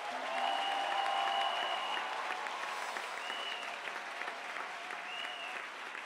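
Church congregation at an Easter Passover gathering applauding and cheering to acclaim Jesus, a dense, steady wash of clapping that holds loud throughout with faint voices mixed in.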